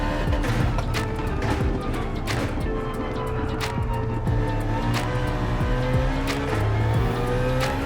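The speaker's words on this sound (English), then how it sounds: "Very high revving engine, full of character. Those downshifts are crispy." A BMW E46 M3 GTR race car in Gran Turismo 7 revs high and downshifts, a loud continuous engine howl with rising and falling pitch, crisp shift blips and tire noise, with no voices.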